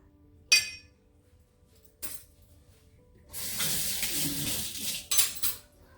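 Spoon clinking against a glass while stirring a cayenne pepper lemonade drink, a couple of sharp isolated taps followed by a longer stretch of rapid rattling stirring, close and fairly loud.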